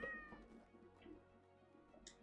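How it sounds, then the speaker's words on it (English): A cat-like Palico companion voice option from the video game Monster Hunter, a few soft meow-like calls heard faintly over quiet game menu ambience. "That sounds most cat-like."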